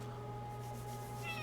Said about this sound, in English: I'm sorry, was that a kitty? Kitty!